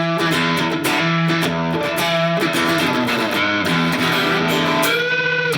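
Smart electric guitar played through a distortion effect, with sustained chords and short riffs rendered saturated and buzzy, loud and upfront with no talking.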